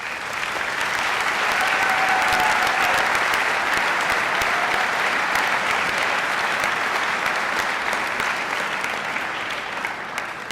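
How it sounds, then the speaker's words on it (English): Sustained, dense applause from a large crowd at a college of architecture graduation ceremony, loud and steady for about ten seconds, easing slightly near the end, with no talk over it. "let's give a round of applause for those who have joined us."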